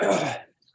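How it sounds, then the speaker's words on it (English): A person clears their throat once with a rough, gravelly rasp, then it goes quiet. "Let me clear my throat."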